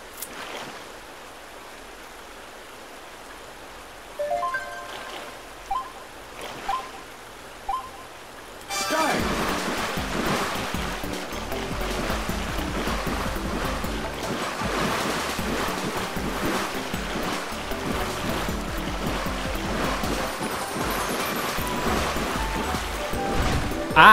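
Paddling a boat in the Wii Party Balance Boat game, a few soft splashes early, then a steady loud wash of water and wind-like rushing running for most of the stretch, with voices talking over it.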